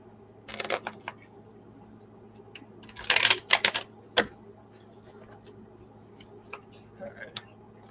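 Tarot cards shuffled in short bursts, crisp riffling snaps and flutters close by in a quiet room, with brief gaps and a few lighter taps after.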